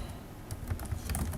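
Rapid clicking of computer keys as text is typed into a spreadsheet, a brief close run of keystrokes with no talking.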